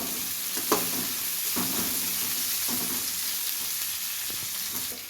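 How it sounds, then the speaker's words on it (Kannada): Onions sizzle and fry steadily in a hot pan while cooking for gobi manchurian, a constant hiss broken by a few soft stirring scrapes, close and alone with no voices. "ಇವಾಗ ಈರುಳ್ಳಿ ಹಾಕ್ಕೊತಾ ಇದ್ದೀನಿ. ಇದನ್ನು ಒಂದು 2 ನಿಮಿಷ ಫ್ರೈ ಮಾಡ್ಕೋಬೇಕು."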